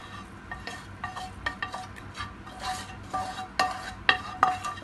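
Mashed potato blended with cheese in a bowl for fish croquettes, mixed with soft, irregular scraping and squelching strokes that grow a little louder and sharper toward the end, heard up close with no talking.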